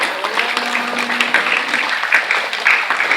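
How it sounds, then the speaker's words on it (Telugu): Audience clapping at a temple wedding ceremony for Lakshmi Narasimha Swamy, a steady patter of many hands lasting throughout, with a faint sustained tone beneath. "చప్పట్లు ఇప్పుడు కొట్టొచ్చు అమ్మా మీరు."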